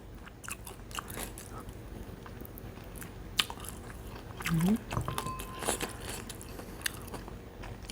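Crispy fried chicken wings in a spicy batter coating are bitten and chewed close to the microphone, giving crunchy snaps and crackles. Someone talks between bites.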